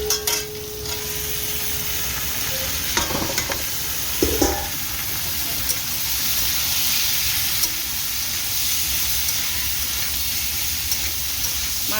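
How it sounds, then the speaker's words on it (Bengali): Mushrooms fry in a pan, a steady close sizzle and hiss with a few scrapes and clicks of stirring, no voices. "এবার আমি মাশরুমটা এর সাথে ভাজবো,"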